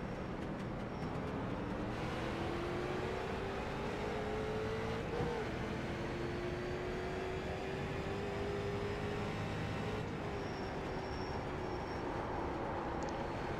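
Street stock race cars roar around an oval track in iRacing, a steady engine drone with a rising, shifting pitch as cars run close together, loud and continuous with no talk.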